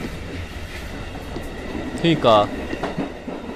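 Subway train running inside a horror video game, a steady low rumble of wheels and car noise throughout with a brief brighter squeal or chime burst in the middle, heard under quiet talk.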